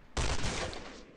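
A single rifle shot rings out in the Shooting World shooting game, a sharp loud crack with a short decaying tail, heard alone.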